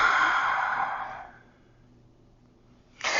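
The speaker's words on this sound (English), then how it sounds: "Big, full, deep breaths." A deep breath during a yoga stretch: a long, close exhale that fades out over about a second, a quiet pause, then a sharp new inhale at the end.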